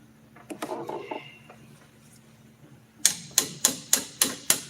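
A hammer strikes truck axle parts during an F-250 axle swap: six sharp, evenly spaced metallic blows ring out close by, following a few scattered clanks of parts being handled.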